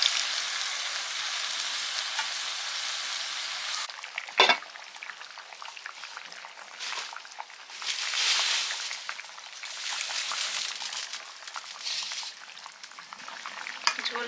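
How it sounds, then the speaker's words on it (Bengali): Mustard paste stirred into water is poured into a simmering tilapia curry with new potatoes and tomato, giving a steady frying sizzle with a sharp splash and clink near the start and bursts of bubbling hiss later, with no voices. "এবারে দিচ্ছি সর্ষে বাটা, জলে গুলে নিয়েছি।"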